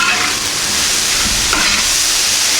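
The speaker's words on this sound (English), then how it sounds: "Go ahead and scoot our potatoes over a little bit. And our sausage." Potatoes and sausage scraped and pushed across a hot Camp Chef FTG600 flat top grill, steady loud sizzling with a scraping stir in the middle, close up and without talk.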